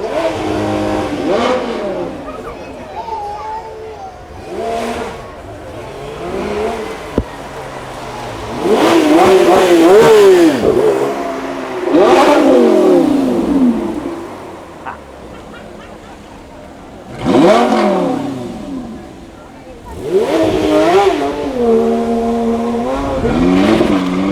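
Porsche cars at the Beaulieu Supercar Weekend rev their engines in repeated loud surging bursts with rising and falling pitch, close by, alternating with quieter idling and crowd noise.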